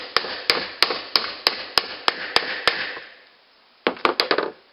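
A wheel bearing is hammered into a Scag Turf Tiger zero turn mower with sharp metallic strikes, about eight evenly spaced blows, a pause, then a faster burst of several more, close and clear.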